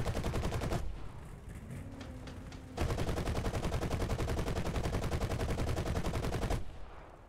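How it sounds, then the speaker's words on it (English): A 7mm machine gun fires in War Thunder, on an Sd Kfz 222 armored car. Two long, fast, even bursts of rapid shots ring out loud and close, split by a short pause, with no talking. "a 7mm machine gun is not a toy to laugh at, actually"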